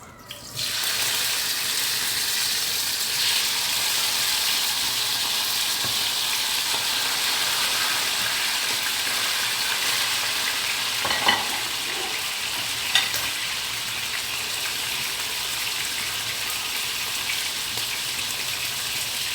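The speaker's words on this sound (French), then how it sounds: "je vais griller mon poisson. C'est les maquereaux tout simplement." Mackerel grills in a hot pan with a continuous, even hiss that holds steady throughout, with a couple of faint clinks and no speech.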